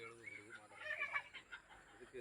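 Chickens cluck faintly around a poultry shed on farmland, short uneven calls in quiet open air.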